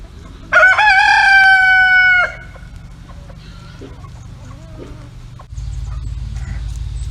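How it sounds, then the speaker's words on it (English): A young backyard rooster, once thought to be a hen, crows one loud, close, drawn-out cock-a-doodle-doo, followed by quieter farmyard sounds and a steady background hum. "I was told it was a hen, so it came back and it's crowing now"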